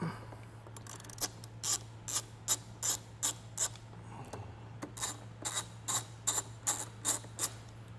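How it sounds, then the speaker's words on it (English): A ratchet fitted with a 10 mm socket loosens a car battery terminal on a 2021 Jeep Wrangler, giving bursts of quick metallic clicking in a steady back-and-forth rhythm, close up and with no talking. "It's going to be a 10 millimeter socket to loosen this up."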